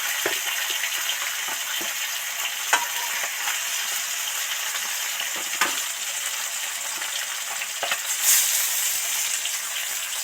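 Fish deep-frying in hot oil for a fish curry gives a steady, close, bright hiss of bubbling, broken by a few sharp clicks and taps from a utensil.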